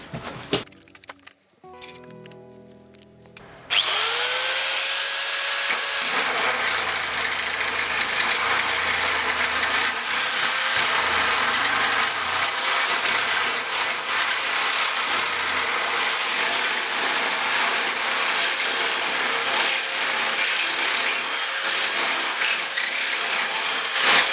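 A Makita electric nibbler shear cuts through four stacked metal sheets, a loud continuous grinding, chattering mechanical whine that runs steadily for about twenty seconds after a few brief clunks and handling knocks at the start.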